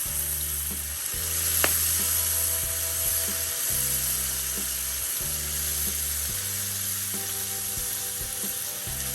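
Bacon sizzles in a pan, a continuous bright crackle beneath a steady low electrical hum that cuts in and out in blocks. A single sharp clack sounds near the two-second mark.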